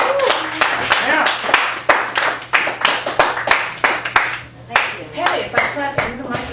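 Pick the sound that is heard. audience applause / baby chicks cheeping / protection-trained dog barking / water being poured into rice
audience applause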